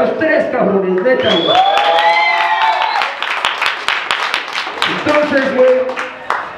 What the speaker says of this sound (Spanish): y un aplauso para los tres cabrones